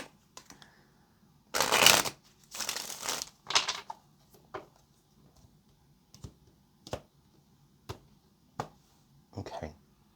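A deck of tarot cards is shuffled in several quick riffling bursts close by, then a series of soft, separate taps and flicks as cards are set down.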